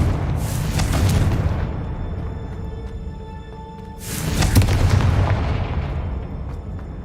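Two heavy booming blasts from the Confringo fire spell in Hogwarts Legacy, each a loud burst with a rumbling tail, about four seconds apart over continuous game ambience.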